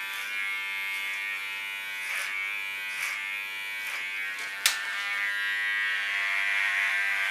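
An electric hair clipper used without a comb attachment cutting hair for a punk hairstyle, a steady close buzzing drone with a few brief changes in pitch as it moves through the hair.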